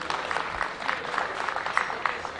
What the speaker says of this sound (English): A round of applause for the Consul General, please.